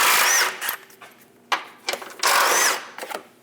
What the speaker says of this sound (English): Using a 15mm socket, remove the 2 bolts for the front air dam.